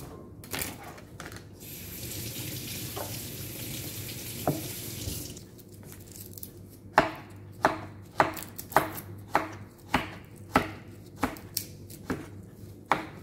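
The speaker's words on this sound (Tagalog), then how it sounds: "tapusin lang muna naming hiwain ito" Knife chopping zucchini on a cutting board, first under running tap water and sink noise, then a steady series of about a dozen crisp, evenly spaced chops close by.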